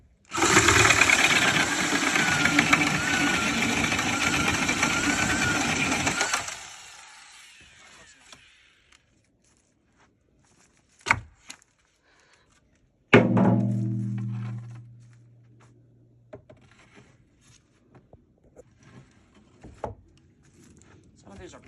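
A machine sharpens wooden tree stakes at a lumber yard. It runs loud and steady for several seconds and then stops. A sharp thunk follows, then a second burst that fades out.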